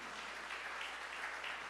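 A church congregation applauds together during a Portuguese-language worship service, a dense, steady wash of clapping that holds at an even loudness throughout with no speech over it.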